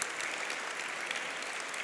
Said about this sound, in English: Could you give them a tremendous round of applause?